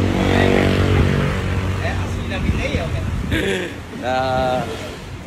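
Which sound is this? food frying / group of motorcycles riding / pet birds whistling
group of motorcycles riding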